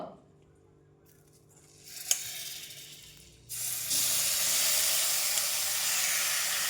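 Meat dropped into melted butter in a hot pan, a quiet faint sizzle followed by a sudden burst into a loud, steady close hiss that continues to the end, no talk.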